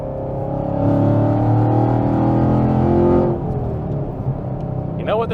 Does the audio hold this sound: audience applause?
no